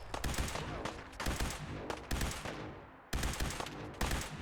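Rifle fire from the Fallout 4 video game, heavily modded: loud, dense bursts of shots with short gaps, each burst sharp and booming, the sound almost continuous across the stretch with no talking.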